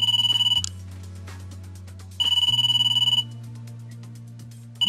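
A phone rings in the video game No, Thank You, with two separate bursts of bright, repeating electronic trills over a steady backdrop of sustained musical tones.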